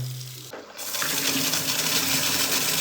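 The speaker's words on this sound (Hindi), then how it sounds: "ये देखो भाई फाइनली पानी स्टार्ट, लेकिन यहाँ से आ रहा है, यहाँ से लीक कर रहा है।" Water bursts out and leaks from a damaged plastic pipe, starting abruptly after a brief pause and then rushing in a steady, loud, close hiss.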